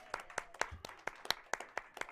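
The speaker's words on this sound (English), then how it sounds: "All right, round of applause." Applause from a small studio audience at a talk show, a thin, distant patter of about nine distinct claps in a loose steady rhythm, fairly faint and with no talking over it.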